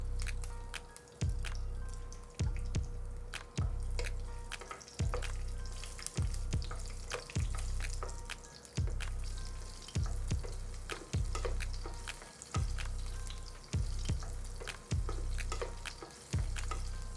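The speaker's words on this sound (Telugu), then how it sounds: "ఆనియన్స్ అయితే వేసుకుని ఫ్రై చేసుకుందాం." Onions fry in a pan with green chillies and cardamom, a soft, continuous sizzle broken by a steady, regular stirring scrape about once a second.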